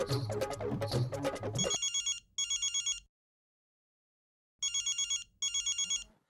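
A telephone rings in pairs of rapid electronic trills separated by a silent pause, following a burst of loud music at the start.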